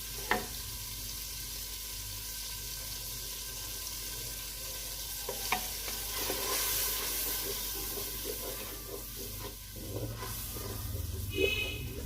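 Masala with turmeric and salt sizzles in a pan while being stirred, a steady low frying hiss with occasional scrapes and clinks, fairly quiet and without talk.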